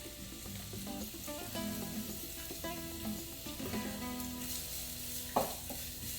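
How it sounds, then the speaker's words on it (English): Onions and garlic sizzle in a pan over medium heat, a continuous close crackle with light scraping and one sharp clack near the end. "as you've got those onions cooking, we're also going to want to throw in our garlic"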